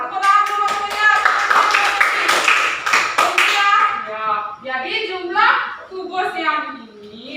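A classroom of students claps together in a quick, rhythmic burst of sharp, close hand claps for about four seconds, then children's voices and chatter follow.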